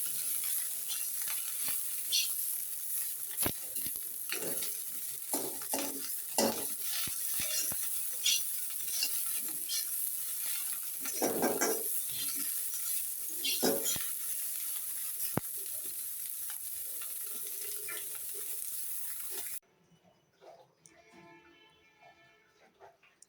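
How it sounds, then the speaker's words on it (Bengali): Small fish and onion frying in oil in a pan, a steady loud sizzle with crackles and occasional stirring clinks, which cuts out abruptly near the end, leaving quieter kitchen noise. "এখন পেঁয়াজ আর মাছ আর একটু ভেজে এটা আমি নামিয়ে রেখে"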